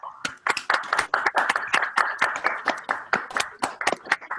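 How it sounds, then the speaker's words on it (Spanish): A small group claps in a distinct, fairly regular rhythm, each sharp clap clearly separate, close by and moderately loud, with no voices over it. "brindémosle un aplauso"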